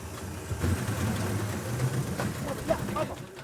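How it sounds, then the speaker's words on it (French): Motorized dugout canoe (pirogue) on an Amazon river near Iquitos, Peru, its outboard engine droning steadily and fairly close, a low continuous hum under some faint voices. "Des pirogues à moteur assurent régulièrement la liaison avec les villages les plus éloignés."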